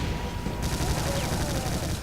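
Brutal Doom video game gunfire, a loud, rapid, continuous burst of shots over dense combat noise, briefly.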